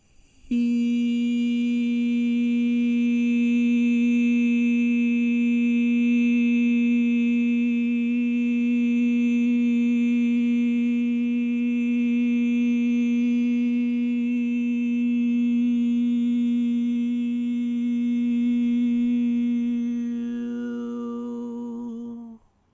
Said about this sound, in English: For a couple of you, that was 2 tones